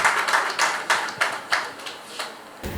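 A small audience claps for a few seconds at a francophone magazine talk-show taping, with loose, sparse, uneven hand claps at close range that end abruptly.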